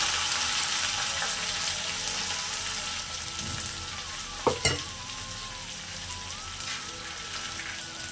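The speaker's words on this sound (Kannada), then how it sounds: "ಇವಾಗ ಅದೇ ಎಣ್ಣೆಗೆ ಈರುಳ್ಳಿ ಹಾಕ್ತೀನಿ" Onions frying in hot oil, the same oil just used to fry baby potatoes for a Kannada-style aloo fry, give a steady close sizzle throughout, with a couple of brief clattering stirs in the middle and no talk.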